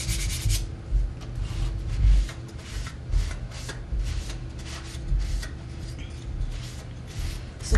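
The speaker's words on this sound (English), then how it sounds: "So sanding is done" Painted wood is hand-sanded with quick, repeated rubbing strokes, a close scratchy rasp in an uneven rhythm, with no talking.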